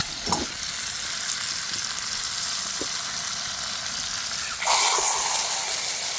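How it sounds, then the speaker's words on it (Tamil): Fish frying in oil at a dam-side fish stall after being turned, a steady loud crackling sizzle with a few clunks, surging brighter near the end as more oil goes in. "எல்லாத்தையும் நம்ம திருப்பி வச்சதுனால திரும்ப நம்ம எண்ணெய் சேர்த்துக்கிறோம்."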